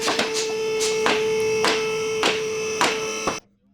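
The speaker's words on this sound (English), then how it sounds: "Use a 22mm deep socket with an electric impact wrench to remove the front wheel lug nuts." An electric impact wrench with a 22mm deep socket rattles in a loud burst of rapid hammering on the front wheel lug nuts of a 2007–2013 Acura MDX, then cuts off abruptly.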